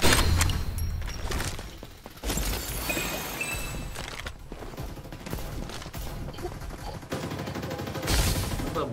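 Gunfire in the video game Farlight 84, dense rattling bursts of automatic shots with thuds and impacts throughout, loud and close, mixed with game effects and occasional voices.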